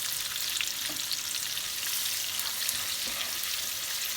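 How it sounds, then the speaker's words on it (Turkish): Hot caramel with butter bubbles and sizzles continuously in a pan while a wooden spoon stirs it, a dense, even frying hiss heard close up and alone. "Şimdi karıştırabiliriz artık tahta kaşıkla."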